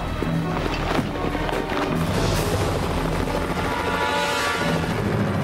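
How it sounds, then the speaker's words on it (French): Loud, steady rotor thrum of a helicopter with rushing wind noise, continuous and close throughout. "L'hélicoptère va arriver!"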